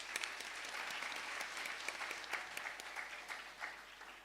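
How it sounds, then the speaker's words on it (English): Applause from an audience at a Bharatanatyam dance performance, honoring the violin accompanist: scattered, moderately quiet clapping with distinct individual claps standing out, continuing evenly and tapering slightly at the end. "Please give a round of applause to Dr."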